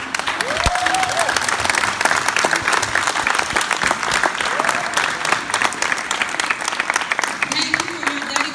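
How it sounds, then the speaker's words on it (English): An audience applauds steadily for marchers in the Hyde County Schools boycott, dense continuous clapping at close range throughout, with a brief voice or whistle near the start. "Let's give them a round of applause."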